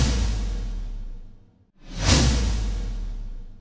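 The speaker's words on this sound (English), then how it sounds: "Here's what the whoosh effect sounds like." A synthesized whoosh built for music production swells and fades out, drops to near silence, then a bright second rush surges in and slowly decays.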